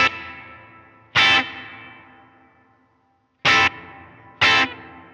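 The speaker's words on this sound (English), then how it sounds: "You do hear the darkening of the reverb" Electric guitar through a dark Helix reverb, struck in three sharp, loud chords, each bright attack followed by a long, darkened reverb tail that fades slowly between hits.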